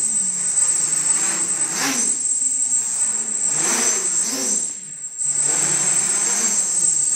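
Motors on an Iconic-X frame multicopter with an OpenPilot CC controller whine steadily at half throttle as it climbs fast, a close, buzzing drone with a high tone and slight rises and dips.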